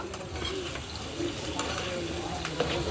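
Chicken masala stirred and frying in a pan over a wood-fired stove, with a steady sizzle and occasional scraping strokes close up, without voices.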